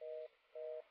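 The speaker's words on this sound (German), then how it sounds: "Telefon." A telephone tone in the video game The X-Files: Resist or Serve, two identical steady electronic beeps separated by a short pause, clean and alone.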